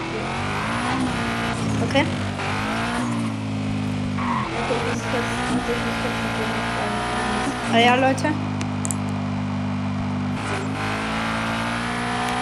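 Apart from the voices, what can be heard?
Koenigsegg Regera race car engine in a video game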